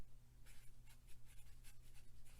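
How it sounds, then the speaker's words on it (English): Pen writing on paper, soft and close, with faint scratchy strokes in a quick irregular rhythm over a low, steady background hum. "So let's write that down."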